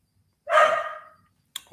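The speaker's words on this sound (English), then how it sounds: "Dog is barking." A pet dog named Max gives a single loud, close bark with a short ringing tail, followed a second later by a brief second yelp.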